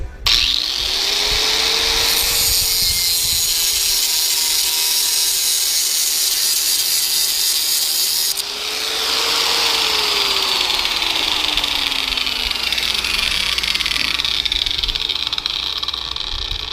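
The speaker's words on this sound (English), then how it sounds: "Grinder, turn my grinder on." Angle grinder spinning up and cutting through metal, a loud sustained whine with a harsh, bright grinding hiss that swells in the middle and eases toward the end, close by, with no talk.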